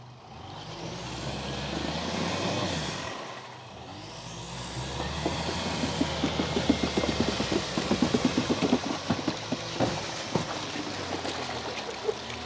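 A Los tracked all-terrain vehicle drives through peat bog and crosses a river, its engine droning steadily, dipping briefly and then rising again, with splashing water and rattling clatter throughout.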